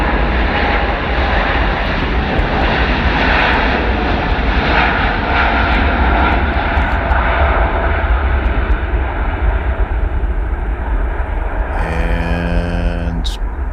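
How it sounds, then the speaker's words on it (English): A Boeing 787-9 jet at takeoff with a runway overrun, recorded from a distance, makes a loud, steady engine roar that holds for the whole stretch. "So 787-9 takeoff runway overrun."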